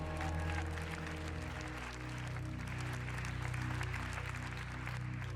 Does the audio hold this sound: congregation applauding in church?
yes